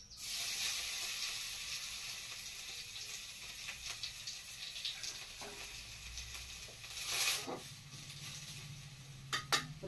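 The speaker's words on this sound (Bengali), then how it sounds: "রসুনটা জিরাটা ভাজা ভাজা হয়ে গেছে।" Garlic, whole cumin seeds and bay leaves sizzle softly in hot oil, a faint steady hiss with a few light utensil clinks and stirring sounds.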